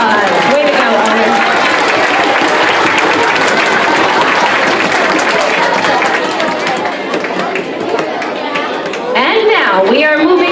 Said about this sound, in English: Let's give Owen another round of applause.